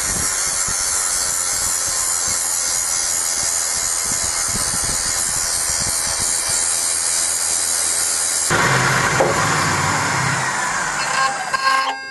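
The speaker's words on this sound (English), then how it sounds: "Steel is cut with a large angle grinder, and then all the pieces are stacked and ground at the same time" A large angle grinder cuts and grinds stacked steel pieces for a blacksmith forge, a loud continuous high whine with gritty rasping that shifts pitch toward the end as the disc bites harder.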